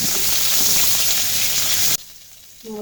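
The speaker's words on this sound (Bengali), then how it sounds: "আলুটা একটু নুন আর একটু হলুদ দিয়ে ভেজে" Potato pieces with salt and turmeric sizzle steadily in a hot pan for about two seconds, then the frying noise drops away and a quieter pause follows.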